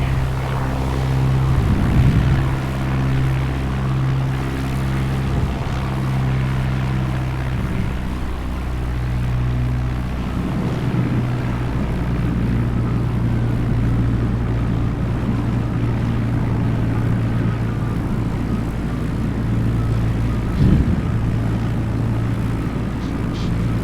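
A Just Flight P-38 Tomahawk light plane in a flight simulator comes in to land on a breezy day at the Jersey Shore. Its steady propeller-engine drone with tonal harmonics runs throughout, shifting pitch midway, and no one speaks.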